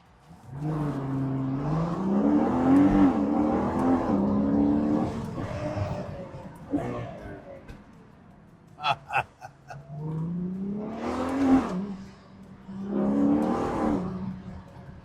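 Ferrari Purosangue SUV slowing to a stop, then its engine revving hard as it pulls away, with a second surge of acceleration later; loud and close, with a few brief clicks in the pause between.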